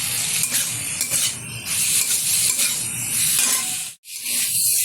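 Raw sand goby fish with chopped tomato and coriander is stirred in a hot pan for a spicy jhal, giving a steady sizzle with scraping utensil strokes, close and continuous, briefly cutting out near the end before resuming.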